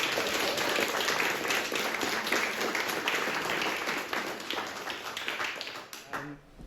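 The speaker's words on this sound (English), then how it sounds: "So if you'd like to give him a round of applause" An audience at a live evening talk breaks into warm applause, many hands clapping together at a steady level before the sound tapers off and stops at the end.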